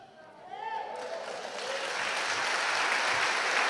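A Mass congregation breaks into applause, the clapping swelling quickly from a soft start after a brief spoken voice and holding steady, loud and dense.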